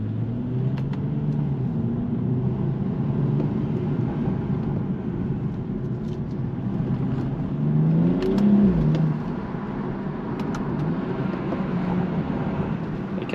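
A BMW 235i with a 326-horsepower six-cylinder engine, stock exhaust and rear-wheel drive rumbles steadily at moderate volume. Its engine note swells briefly in a short rev partway through before settling back.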